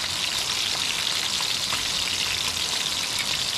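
Chicken frying in hot oil at a riverside campsite, giving a loud, continuous close-up sizzle and crackle with steady popping spatter and no talk.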